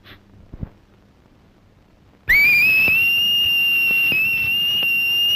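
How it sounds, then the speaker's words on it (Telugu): A loud, sustained shrill finger whistle in the mouth, one steady high tone holding for about three seconds after a short quiet stretch with faint background noise. "ఈల వేయటం నాకు మాత్రం ఇష్టమన్నా?"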